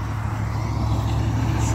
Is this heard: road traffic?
yes